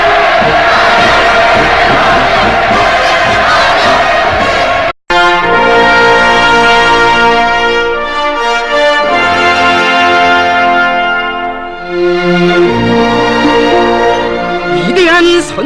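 A huge crowd in Pyongyang roars and cheers during the 2000 welcome for Putin's visit to North Korea. The sound is a dense, loud, continuous wash that turns into sustained chant-like tones after a brief break.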